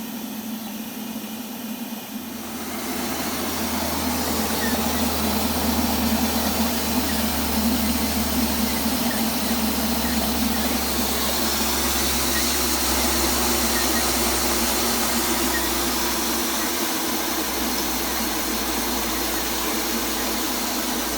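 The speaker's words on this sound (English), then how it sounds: "turned the tap on to see what type of speed I'd get off the Pelton wheel" A Fisher and Paykel hydro generator driven by a Pelton wheel in the New Zealand bush starts up after a quiet moment, then settles into a steady loud hum and rushing water hiss with a low droning tone.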